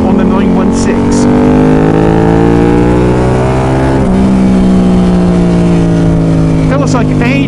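A Ducati 916 motorcycle engine drones loud and close while riding, its pitch gliding down then holding steady, with faint wind noise throughout.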